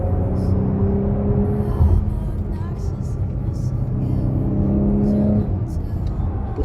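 Engine note of a 2020 Porsche Cayenne E-Hybrid with its V6, a steady low rumble with mild rising revs near and loud, under continuous talking.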